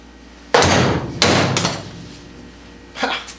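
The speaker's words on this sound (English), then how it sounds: "We're just going to go with the use a bigger hammer method." Two loud metallic hammer blows close by, knocking the steering wheel off a Wildcat Sport side-by-side, followed by a lighter knock and a softer strike a moment later.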